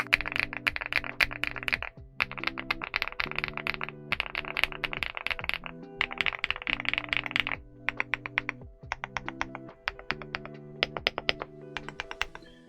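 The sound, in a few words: mechanical keyboard typing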